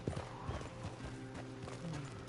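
Horse hooves clip-clopping in the Red Dead Redemption video game during a river crossing, an uneven string of close hoof knocks with soft splashy texture and a brief snort, no speech.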